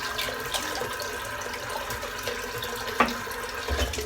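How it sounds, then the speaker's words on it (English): Cold water runs steadily from a tap as a shaving brush is rinsed under it, a continuous hiss and patter with a brief splash near the end, close and fairly quiet. "Got some cold now. It's not ice cold, but it is cold. Cold enough. Just rinsing my brush out."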